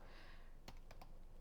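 Typing on a computer keyboard, a few faint, sharp key clicks in a short burst over quiet background hiss.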